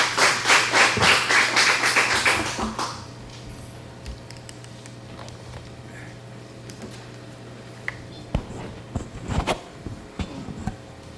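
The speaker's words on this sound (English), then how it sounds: "Many people are clapping with this gentleman here" An audience at a city council meeting claps in a quick burst lasting about three seconds, then the room falls quiet apart from a few scattered taps and small knocks.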